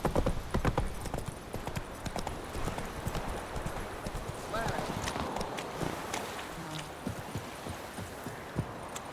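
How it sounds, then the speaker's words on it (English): Horse hooves clip-clopping at a gallop in The Witcher 3 video game, rapid rhythmic thuds close by with a brief whinny, while someone talks over the hoofbeats. "Come on, Roach."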